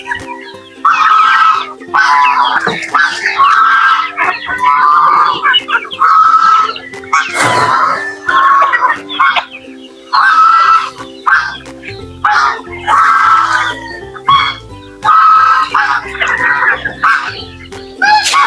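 A flock of hungry native chickens clucks busily and repeatedly at feeding time, loud and close, with bursts of overlapping calls and an occasional crow.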